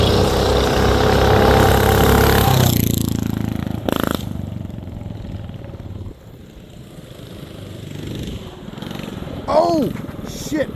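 A mini bike engine revs hard at high speed, loud and close at first, then drops to a fainter, distant drone as it moves away. A short whine rises and falls near the end.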